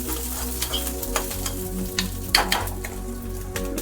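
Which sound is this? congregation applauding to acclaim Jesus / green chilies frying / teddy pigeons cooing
green chilies frying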